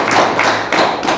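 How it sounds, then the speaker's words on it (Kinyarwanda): Applause from the congregation at a church wedding ceremony, steady close hand claps pulsing in waves. "Urabona amashyi menshi rwose."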